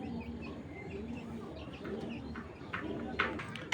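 Domestic pigeons coo in a low, continuous murmur from a group of newly arrived birds at a pigeon sale. The sound is steady and fairly close, with a few faint chirps and some rustling over the top.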